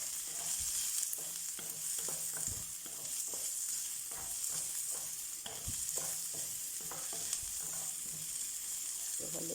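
Onion and ginger fry in a pan for ampalaya with egg, stirred constantly with rapid scraping and tapping strokes over a continuous, fairly quiet hiss of sizzling oil.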